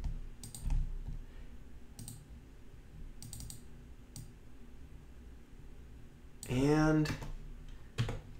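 Mouse clicks and keyboard taps while working in Synfig Studio animation software, sparse sharp clicks spaced through the clip, close and quiet, with someone briefly speaking over them.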